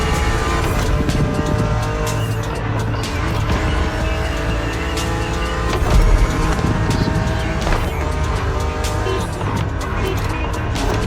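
A BMW Z two-seater roadster races in The Crew Motorfest, its engine roaring loud and steady with tire squeal and skidding, plus a faint surge of another car passing midway.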